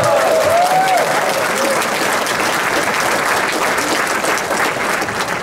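Steady applause from an audience at a political meeting in Bielsko-Biała, dense and continuous throughout, with a voice faintly heard over it near the start.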